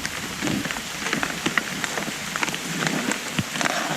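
Steady rain patters on a hard surface, with dense crackling drops and occasional louder splats, no voices.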